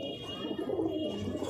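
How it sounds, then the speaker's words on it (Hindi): Bajra Gandedar and Kalsare pigeons coo together in a soft, close, rolling murmur, with a low voice faintly under it. "ये देखें आप सब कबूतर बाजरे गंडेदार और कलसरे कबूतर हैं"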